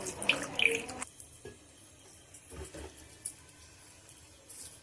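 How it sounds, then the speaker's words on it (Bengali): Water trickles from a tap in short bursts as it is added little by little to atta and semolina flour to form a dough for khaja, with light splashes and drips in a quiet kitchen. "এবার আমি অল্প অল্প জল দিয়ে একটা ডো বানিয়ে নেব।"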